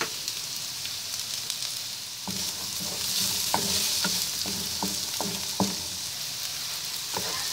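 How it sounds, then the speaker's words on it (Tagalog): Garlic and chopped onion sautéing in a pan for spicy pork laing, a constant sizzle joined partway through by a run of clacking spatula strokes as the mixture is stirred. "Lutuin po muna natin yung ating bawang. Sunod po natin yung ating sibuyas."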